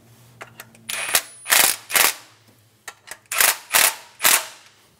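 A ratchet snugs down bolts on the water pump of a 2000–2006 Toyota Tundra 4.7L V8, heard as several loud, close bursts of rapid clicking separated by short pauses.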